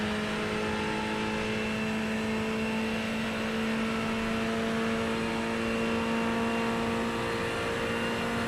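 A racing car engine in a motorsport game drones loudly and continuously, a sustained whining hum with steady tonal layers and no distinct rev peaks, running alone without speech.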